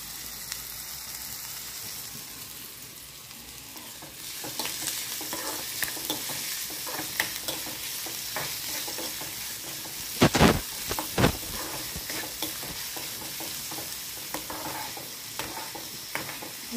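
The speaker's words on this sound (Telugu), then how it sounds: "ఉల్లిపాయలు, పచ్చిమిరకాయలు వేసుకొని బాగా మగ్గించుకోవాలి." Chopped onions and green chillies sizzle and sauté in a pan, with a steady soft frying hiss broken by repeated stirring scrapes and a couple of louder clatters of the spoon.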